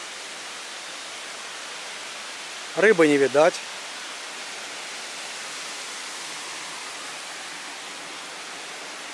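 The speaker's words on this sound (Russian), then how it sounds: "Мини-водопадики." Water trickling down rock walls in small waterfalls at Kirindi Ella in Kuttapitiya, Sri Lanka, a steady close hiss of falling water throughout, briefly interrupted by a short spoken phrase.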